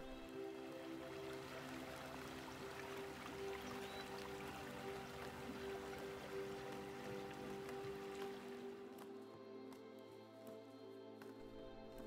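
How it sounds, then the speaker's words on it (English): Arizona's Salt River flowing through the desert in the Tonto National Forest, a steady soft wash of moving water with a constant hum underneath, no talk. "The relaxing flow of the cool water and the sound and sights of wildlife are all around you."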